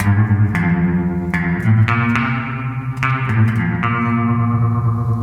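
A twangy electric guitar, picked right back at the bridge, plays a riff of ringing plucked notes with a wavering tremolo shimmer, loud and reverberant, with no voices.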